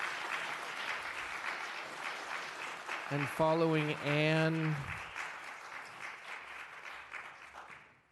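An audience at a city council meeting claps in a steady, dense wash of applause, while a voice on a microphone briefly speaks over it.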